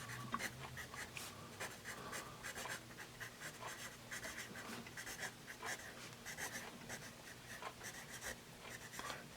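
A factory-sharpened Musgrave natural #2 HB wooden pencil scratches across paper in quick, continuous strokes, close and clear for several seconds with faint background hum.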